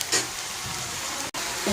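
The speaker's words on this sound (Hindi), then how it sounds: "तो इधर है मछलियाँ हमारा बन के तैयार हो चुका है, मतलब अभी तला रहा है, अभी हम तल रहे हैं।" Fish frying in a pan, a steady close sizzle with a faint stirring scrape, broken by one brief dropout near the end.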